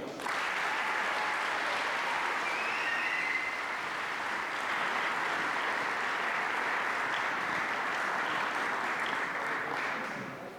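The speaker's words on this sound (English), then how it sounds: "Please have a great round of applause for Mr." Sustained, steady applause from a crowd in a school gym during a senior recognition at a boys basketball game, a dense, even wash of clapping lasting around ten seconds with no break.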